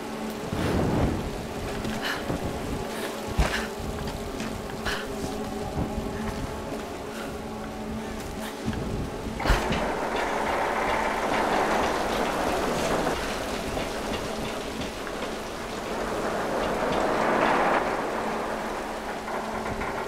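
A thunderstorm in the Tomb Raider video game, with steady heavy rain hiss and deep rolling rumbles that swell midway through, dense and continuous with no talking.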